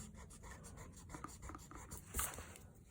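Pencil scratching lines onto paper while sketching a bird, with soft rubbing strokes of an eraser, close and quiet, a steady run of small scritching marks and one slightly louder stroke near the end.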